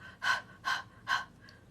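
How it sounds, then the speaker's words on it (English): Panting breath exercise: three sharp, evenly spaced breaths in quick succession, close and quiet, followed by a fainter fourth puff, with no talk. "So you begin with your panting breath, which is designed to get you"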